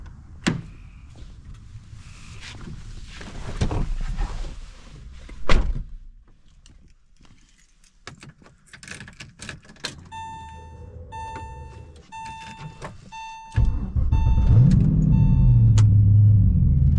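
A Porsche 911 pulls into a garage, its engine rumbling low before a door thunks shut and an electric motor whirs in repeated short bursts, followed by a louder close engine rumble at the end.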